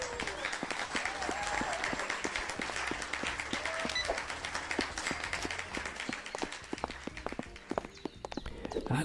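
Dense, continuous in-game crowd clapping from a life simulator video game, crisp and rapid, going on steadily throughout.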